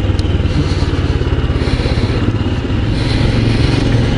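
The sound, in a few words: Royal Enfield Scram 411 motorcycle engine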